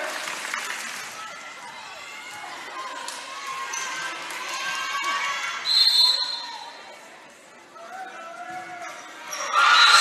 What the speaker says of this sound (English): We're all knotted up as you hear the roar of this crowd.